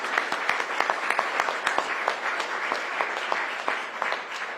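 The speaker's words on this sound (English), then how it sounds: "give them a big round of applause" Crowd applause at a Rocket Lab announcement event in New Zealand: a dense, steady round of many hands with sharp individual claps popping through, sustained throughout and fading slightly at the end.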